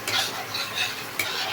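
A spatula scrapes and stirs spiced masala for a cauliflower and potato curry in a pan, several close, rhythmic stirring strokes over a light sizzle, with no voices.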